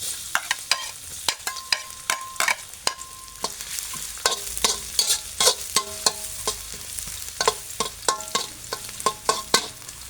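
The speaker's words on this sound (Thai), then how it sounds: "เกี่ยวกระเทียมให้เลี้องหอม" Garlic frying in oil in a wok, with a dense crackling sizzle broken by many sharp metallic clinks and ringing scrapes of a spatula, close and busy, no speech.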